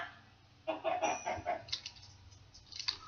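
Chicken clucks and squawks as a chicken is attacked and killed in the Minecraft StoneBlock modpack, a burst of bird cries followed by softer scattered clucks, fairly faint against a low hum.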